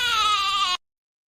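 A single goat bleat as a sound effect, one loud nasal wavering cry lasting under a second and then cutting off abruptly to silence.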